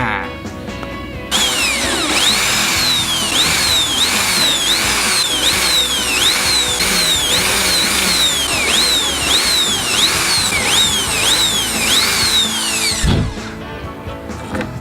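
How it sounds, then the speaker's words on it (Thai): A power drill whines loudly and continuously, its pitch rising and dipping over and over as it bores six string holes into a wooden guitar body, then cuts off abruptly near the end. "ขั้นตอนต่อไปทำการเจาะรูนะครับ6รู เพื่อจะทำการร้อยสายขึ้นมาครับ"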